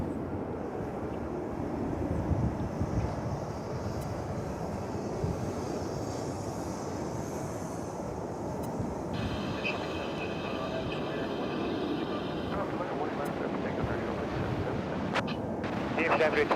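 A jet airliner rumbles steadily at DFW Airport, its broad roar continuous and fairly loud for the whole stretch, with a brief higher whine in the middle.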